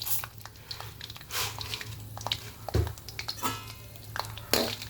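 A spoon stirs chana dal and urad dal in a pan, making scraping, rattling clatters of dry lentils against metal in irregular bursts over a low steady hum, close and moderately loud.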